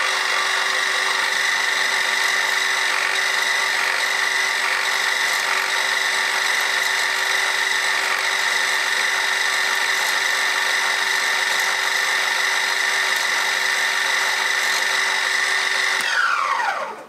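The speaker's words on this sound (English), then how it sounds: "I'm going to slow the feet per minute speed down and take a pass on that." Carbide insert face mill cutting metal on a milling machine with slowed feed: a steady, loud, continuous high-pitched machining whine with a constant hum, running unbroken for most of the stretch before spinning down abruptly at the end.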